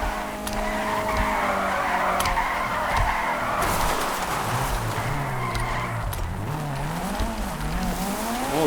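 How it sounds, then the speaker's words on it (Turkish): A Fiat Tipo drifting in GTA 5, loud sustained tire squeal and skidding over a revving engine whose pitch rises and falls, no voices. "Şöyle mesela bir drift, bir durak bırak."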